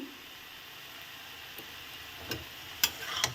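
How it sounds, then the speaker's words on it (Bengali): Radhuni seed paste being stirred into a frying kulekhara leaf ghonto: a faint, steady sizzle with a few soft spoon scrapes near the end, no voices. "রাঁধুনি বাটাটা দিয়ে দিলাম, দিয়ে নেড়ে দিলাম ভালো করে।"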